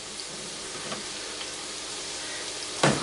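A chicken meal with chopped tomatoes sizzles steadily in a frying pan, a constant close hiss of frying with a brief clatter near the end.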